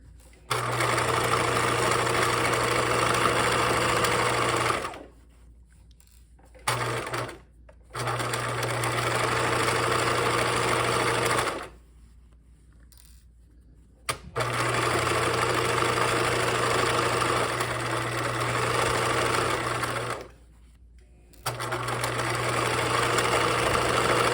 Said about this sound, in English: So I'm sewing along my marked seam line, stitch length 3